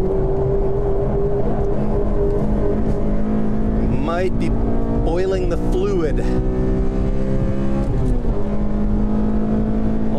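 A Honda Civic Si with a quick, easy build lapping a race track, its engine droning loudly and steadily, then climbing and dropping in pitch through rapid gear changes, with someone talking over it.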